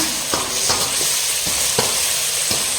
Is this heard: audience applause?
no